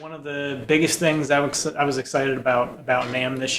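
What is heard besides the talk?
None of the usual background noises is heard.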